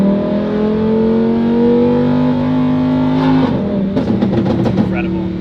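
A Lamborghini Huracan LP610-4 engine revving past 5,000 rpm and climbing in pitch through an aftermarket Valvetronic exhaust, then shifting with sharp crackles and pops, loud and close.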